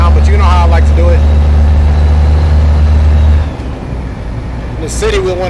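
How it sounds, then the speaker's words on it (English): A truck engine in American Truck Simulator, heard with the windows down while driving through the city, rumbles low and loud and steady, then drops off partway, with a voice talking over it. "In the city, we want to hear that engine."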